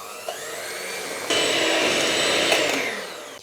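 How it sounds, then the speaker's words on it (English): Mascarpone cream with a shot of limoncello being whisked for a raspberry and lemon tiramisu: a steady, loud mechanical whir that runs throughout and steps up in intensity partway through. "And I'll whisk everything together now."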